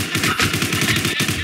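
Rapid automatic gunfire from the online shooter War Inc Battle Zone rattles in a fast, unbroken burst, loud and close, with no talking.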